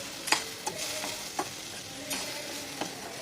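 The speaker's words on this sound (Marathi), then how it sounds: "शिजवलेल्या शेंगा हे छान फ्राय करून घ्यायचं" Cooked drumstick pods fry with turmeric and goda masala, sizzling steadily in a hot pan while a utensil scrapes and stirs in a few distinct strokes, close and moderately quiet.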